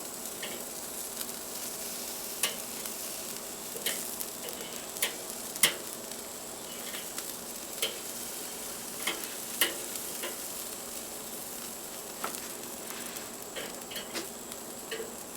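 Peach pepper chicken wings fry over heat with a soft, continuous sizzle. Scattered ticks and pops break through at irregular moments, with no voices.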